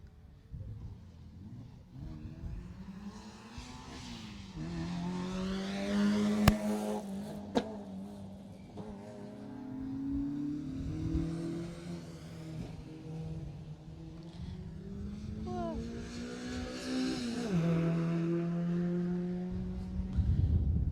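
Rally cars on a closed Jersey Rally stage, including a Saab, roar past one after another, their engines rising and falling in pitch as each one approaches, passes and pulls away, with gear changes heard along the way.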